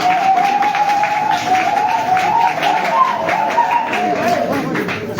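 Audience applause at a political gathering, a steady dense crackle of many hands clapping throughout, with a sustained tonal whistle or cheer running across it.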